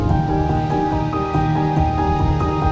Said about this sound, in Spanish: ya podemos disfrutar de la cascada de la Malena, donde el arroyo de la Hoz busca su escapatoria precipitándose en esta impresionante caída